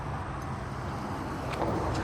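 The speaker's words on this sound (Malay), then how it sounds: "kereta lalu lalang kat tepi-tepi ni" Cars stream past on a busy roadside near Paramount, a steady broadband traffic roar with no gaps, loud and close.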